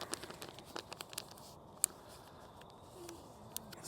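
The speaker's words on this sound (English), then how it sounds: "Stick it down in the plastic bag." Faint, quiet crinkling of a plastic bag as a geocache log is rolled and sealed, with a series of small sharp crackles and rustles close by and no talking.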